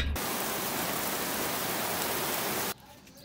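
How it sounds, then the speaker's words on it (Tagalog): Rain falls hard with a dense, even, close hiss that fills nearly three seconds and then stops abruptly, leaving quiet room tone. "It's raining."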